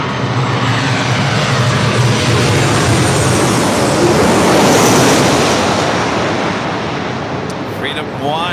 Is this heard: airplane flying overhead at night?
yes